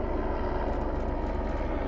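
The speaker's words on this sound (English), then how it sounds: "There is a helicopter here right now." A helicopter flies overhead during an outdoor photo shoot, producing a loud, steady rotor and engine roar with faint rhythmic chopping that fills the scene, and nobody talks.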